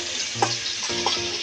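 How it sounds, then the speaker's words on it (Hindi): Eggs frying in a pan for a green onion and egg curry, a steady close sizzle with a few soft scrapes of a spatula. "अंडे को हल्का ब्राउन होने तक ऐसे ही फ्राई कर लेंगे।"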